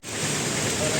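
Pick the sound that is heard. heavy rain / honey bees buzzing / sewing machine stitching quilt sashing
heavy rain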